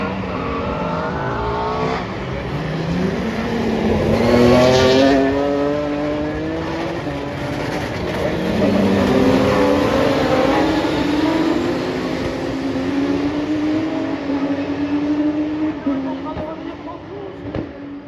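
Rallycross cars race past with loud, rising and falling engine revs and gear changes overlapping one another, while a commentator talks throughout.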